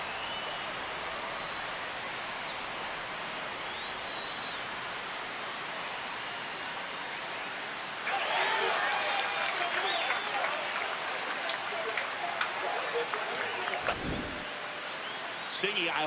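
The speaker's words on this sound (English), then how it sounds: "Here comes the crowd." Ballpark crowd at a Dodgers vs Padres spring training game cheering a home run: steady murmuring stands that abruptly swell into a loud roar of cheers and applause partway through, then hold.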